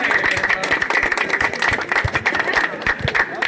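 Audience clapping at a state-level volleyball tournament held for Dhanu Sankranti, a dense, steady patter of many hands that carries through the whole stretch with crowd noise mixed in.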